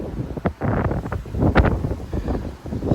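Strong wind gusts roar across the microphone during the outer bands of a severe thunderstorm, surging and buffeting loudly in uneven waves over about three seconds.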